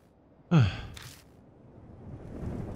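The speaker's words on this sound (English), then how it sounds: "The only sound left is that of our shaky breathing." A sharp gasping intake of breath, then quieter shaky breathing that swells slowly, heard close and alone in the video game Death Mark.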